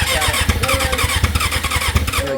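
A Suzuki GSXR1000 motorcycle engine swapped into a dirtbike fires up, a loud, close, rapid lumpy idle with rough, uneven pulses and no talking over it.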